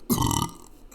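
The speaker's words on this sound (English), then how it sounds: "That's a record for burps" A single loud, close burp with a sharp onset, rumbling for about half a second before trailing off into quiet.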